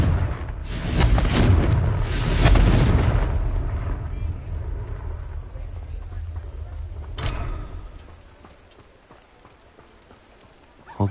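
Loud booming blasts from a Confringo fire spell in a Harry Potter video game, a dense burst of two explosions followed by a smaller third one, with rumbling tails fading out.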